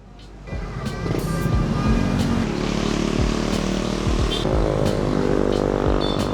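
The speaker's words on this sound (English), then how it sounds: "Check this traffic out, look at the amount of motorbikes." Dense city street traffic in Makati, Philippines, full of motorbikes: a steady, loud wash of engines revving and passing close by, with sharp clicks and knocks scattered through it and no talking.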